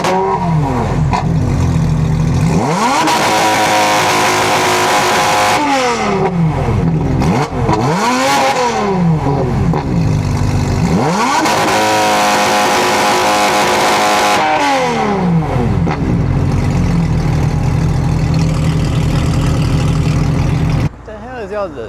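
A Porsche GT4 RS flat-six engine swells through repeated revs and accelerating pulls on a road drive, loud and close, with rising and falling engine sweeps and people talking over it.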